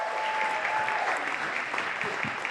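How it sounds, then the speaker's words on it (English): A crowd at a StoryBookFarm social gathering applauds as a performer is welcomed to the stage, a steady, even wash of many hands clapping at moderate loudness throughout the brief moment. "Give him a round of applause."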